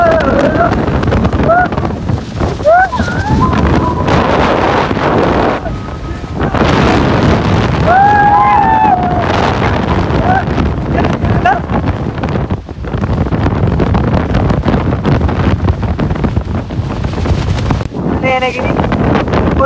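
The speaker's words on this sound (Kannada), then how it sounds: "ಫುಲ್ ಗಾಳಿ ಗಾಯ್ಸ್." Strong wind gusts roar and buffet the microphone on the road up Mullayanagiri near Chikkamagaluru, loud and constant, with people talking and shouting over the blasts.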